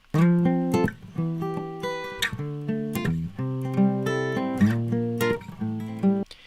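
Strummed acoustic guitar chords ring out one after another while an EQ filter slowly sweeps, shifting the tone's brightness across the phrase.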